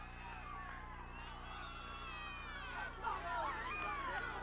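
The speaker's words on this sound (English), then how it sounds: "the Lancer crowd is just making some noise on the other side of the field" A distant soccer crowd at a CIF boys playoff match cheers and shouts from across the field, a steady wash of voices that swells near the end, heard from afar over a low background hum.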